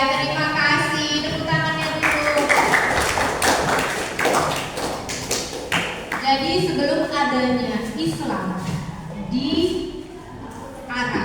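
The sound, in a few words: classroom applause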